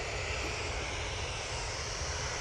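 Ryanair jet airliner engines at Manchester Airport give a steady, loud, continuous roar with a broad rushing hiss and deep rumble, holding even throughout with no talk.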